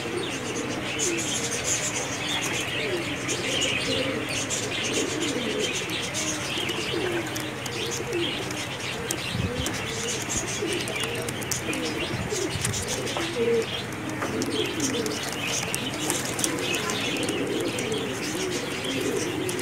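A pair of pigeons offered for sale coo softly and repeatedly, with scattered chirps and occasional wing flutters over a steady background hum.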